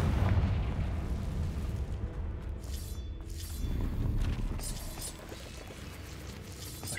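A Confringo spell explosion in Hogwarts Legacy gives a deep, rumbling blast that swells and then rolls off in a low boom, followed by crumbling, pouring debris and softer thuds.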